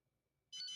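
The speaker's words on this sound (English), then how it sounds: "We get our beep, press once." A single short, bright electronic chirp from an XP MI-6 pinpointer as its power setting changes, arriving suddenly after near silence and fading out quickly, faint overall with no talking.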